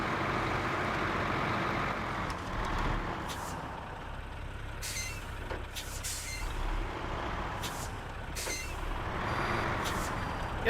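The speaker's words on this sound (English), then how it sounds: "Yeah, there's a backup alarm." Truck backup alarm in SnowRunner on an Alaska logging mission, repeated evenly spaced beeps over a loud steady engine rumble, with a brief air-brake hiss.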